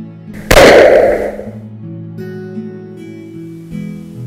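One loud close shotgun blast fired at birds among trees cracks sharply, then its echo rolls away and fades into a quiet outdoor background with low hum.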